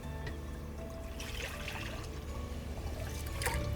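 Excess water trickling and pouring off from a pot of rice during coconut rice preparation, a soft uneven dribble with light splashes and clinks, fairly quiet and alone.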